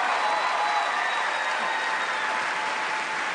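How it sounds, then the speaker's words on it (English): A talent show audience applauds a stuttering comedian, a continuous, even roar of clapping from a large crowd that holds steady and tapers slightly at the end. "So I, along with the audience, applaud you for that."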